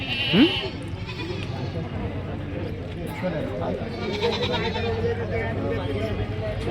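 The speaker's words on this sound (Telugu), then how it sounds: "ఆల్రెడీ వచ్చినాయి మేకలు" Goats bleating at the livestock market in Vikarabad, a sharp nearby bleat early on and further calls amid the busy crowd murmur and voices of the market.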